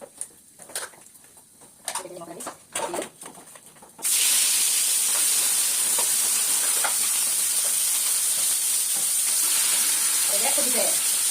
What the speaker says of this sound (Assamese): এতিয়া মাছ কেইপিচ ধুই লৈছোঁ, ফ্ৰাই কৰি লওঁ